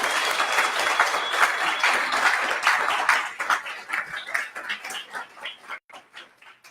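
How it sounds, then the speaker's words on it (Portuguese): A congregation at a Portuguese-language church service applauds, dense clapping that thins into scattered, separate claps and fades toward the end. "Dá um aplauso a Jesus."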